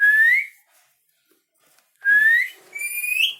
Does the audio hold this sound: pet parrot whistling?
yes